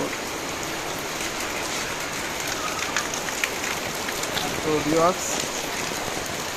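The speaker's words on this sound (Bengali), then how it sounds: "কিন্তু এবারে একটু বৃষ্টিটা বেশি হইতেছে" Steady rain pours down in a dense, continuous hiss, with a voice speaking briefly near the end.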